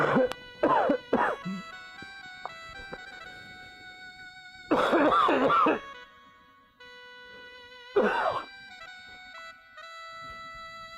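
A person in a Bangladeshi short film who is suffering chest pain and burning coughs and clears their throat in three short, harsh clusters spaced apart, close and clear against a quiet background, with no talking.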